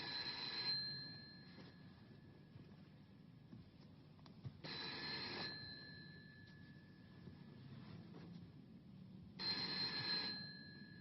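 A telephone rings three times in an indoor room, each burst a bright electronic trill roughly four to five seconds apart, fairly faint with quiet between rings and no talking.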